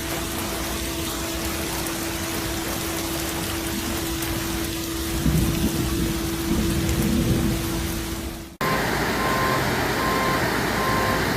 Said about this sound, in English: And still, the rain kept falling.